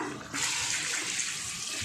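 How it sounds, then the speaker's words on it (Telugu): Water poured into a large pot holding five kilograms of rice for Andhra-style mutton pulao, a sudden rushing gush that starts abruptly and keeps splashing steadily and close. "5 kg రైస్లో దీంతో 3 గిన్నెలు నీళ్ళు వేస్తున్నా"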